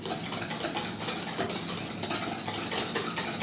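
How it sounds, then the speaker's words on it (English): Apple pie batter of egg and sugar whisked by hand in a bowl, a quick, continuous scraping and rattling of wire against the bowl, close and fairly quiet, with no talk. "I'm just using my whisk for today"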